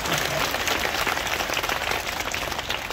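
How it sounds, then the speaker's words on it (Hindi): A crowd at an inaugural gathering hosted by a Gayatri Shaktipeeth applauds with dense, fairly soft clapping that runs steadily throughout, with no voices over it. "अरे तालियां तो बचाओ बच्चे के लिए"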